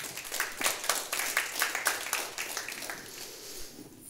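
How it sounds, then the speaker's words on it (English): An audience claps in a moderate, rhythmic burst of applause that gradually thins out and fades away. "A round of applause, please, for Arthur."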